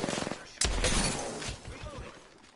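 Devotion LMG firing in Apex Legends: after a brief spin-up, a loud, sudden burst of rapid automatic gunfire breaks in and continues in a dense stream, fading slightly toward the end.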